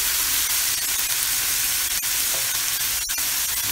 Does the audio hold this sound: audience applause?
no